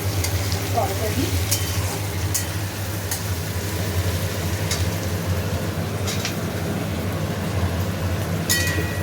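Meat frying in a pan for a festive home meal, a constant loud close sizzle with occasional sharp clicks and scrapes of stirring, no voices over it.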